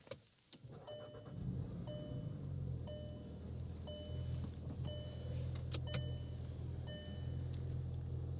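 A 2025 Volkswagen Jetta GLI with a manual gearbox starts up, a short crank then a steady low idle, while repeated electronic chimes beep at an even pace over the engine hum.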